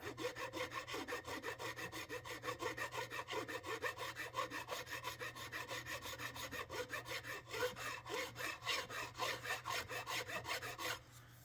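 Rapid rasping strokes of a metal file scraping back and forth over a guitar fret in a steady rhythm, close and quiet, with no voices.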